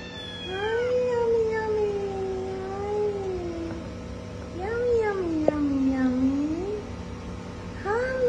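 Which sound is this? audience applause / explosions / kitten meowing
kitten meowing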